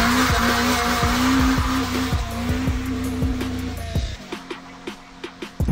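A Toyota Altezza RS200 corners hard on tarmac, its tires squealing in a sustained rising screech over the rhythmic pulsing engine note. The car then fades, leaving scattered faint clicks and taps.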